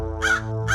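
A crow caws twice in a greedy crow folk story, two harsh nasal calls separated by a short gap, loud and close over a steady low tonal background.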